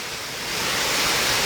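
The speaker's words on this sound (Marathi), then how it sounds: "असा मनमुराद धबधबा तुम्ही इथून सुद्धा पाहू शकता केवढा मोठा सुंदर असा हा धबधबा आहे" A large waterfall thundering down from a great height, heard as a steady, dense roar of rushing water that stays continuous and fairly loud throughout, with no voices over it.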